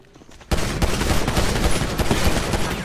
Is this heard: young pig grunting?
no